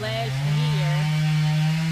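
A chainsaw cutting up a fallen tree drones steadily nearby with a sustained, slightly wavering engine whine, while a voice speaks briefly over it.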